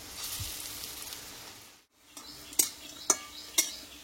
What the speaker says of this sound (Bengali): দেখো বন্ধুরা এই বড়াগুলো কিন্তু ভাজা হয়ে গেলাম, তেল থেকে তুলে নেব।